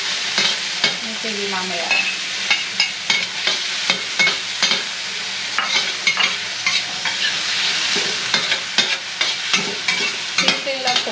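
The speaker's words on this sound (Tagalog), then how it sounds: "Medyo pa-brown lang natin yung sibuyas bawang guys" Onion and garlic fry together in a hot pan for upo with corned beef, a bright steady sizzle broken by frequent clattering stirs and scrapes, close, with a brief bit of talk.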